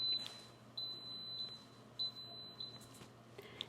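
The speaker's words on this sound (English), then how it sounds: "We're going to wait till we hear the beep" Electric pressure cooker set to high pressure while cooking a millet breakfast bowl gives a series of short, thin electronic beeps, several evenly spaced tones over a quiet kitchen background, faint rather than loud.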